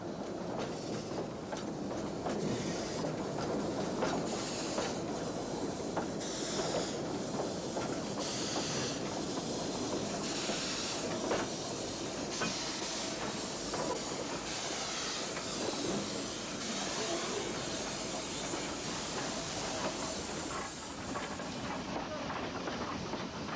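Steam train on the Corgo narrow-gauge line at Vila Real station, a continuous rumble with hiss and rhythmic clicking of wheels over rail joints, fairly close and sustained throughout.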